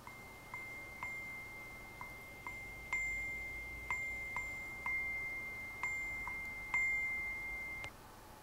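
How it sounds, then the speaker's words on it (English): A chime bar struck in the little mouse rhythm: eight clear metallic dings in an uneven pattern, each with a bright sustained ring that decays before the next strike, played softly and alone in a quiet room. "I played that on a chime bar"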